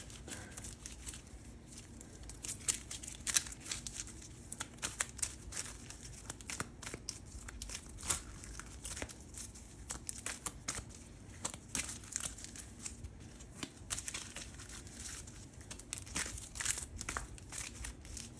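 Soft, irregular riffling and papery flicks repeat quietly and continuously, a close shuffling of stiff War of the Ring board game cards with no voices.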